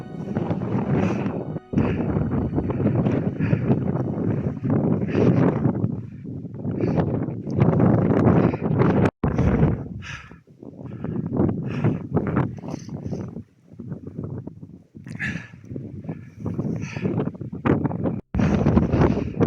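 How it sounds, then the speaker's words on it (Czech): Strong mountain wind on Pico de Teide buffets the microphone in heavy, roaring gusts that rise and fall, loud and close, with brief drops between blasts. "Ten vítr, ten fakt raduje."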